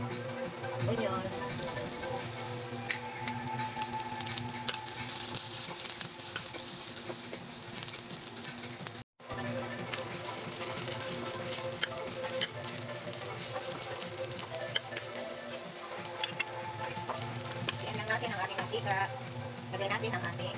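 Onion fries in cooking oil in a pan with a continuous crackling sizzle and light stirring patter, broken by one brief pause midway.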